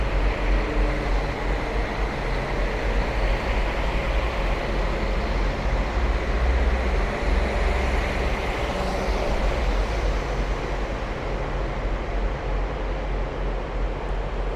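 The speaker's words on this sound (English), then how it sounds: "say goodbye to another departing train" A steady, heavy rumble of a train departing near Anfield, Liverpool, fills the whole stretch, loud and continuous with no voices.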